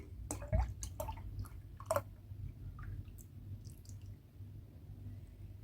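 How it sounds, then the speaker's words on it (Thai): Boiled tamarind water is added to a tepache mixture, heard as soft scattered drips, splashes and small liquid clicks close by in a quiet kitchen. "เราก็เติมน้ำมะขามที่เราต้มเนี่ยลงไปผสมได้เลย"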